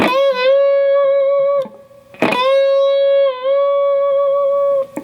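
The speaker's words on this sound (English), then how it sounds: "We're going to bend it up, let it kind of return back down, and then bend again without picking." Sustained electric guitar note from a solo bent upward, eased back down, then bent again, with a brief noisy pick attack between; tone rings loud and steady.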